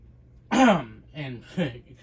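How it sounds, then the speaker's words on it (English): A single sharp throat-clearing cough up close, followed by a couple of softer voiced sounds, with no words spoken. "pardon my cough there"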